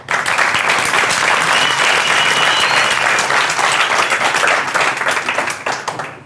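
Loud, sustained applause from an audience welcoming a six-year-old student to the stage for a mental arithmetic demonstration, dense clapping holding steady for several seconds before thinning out at the end.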